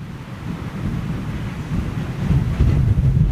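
Strong crosswind buffets the microphone at the Toulouse airfield, a steady low roaring rush that swells louder toward the end, with no voices.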